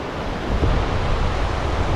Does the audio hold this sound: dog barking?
no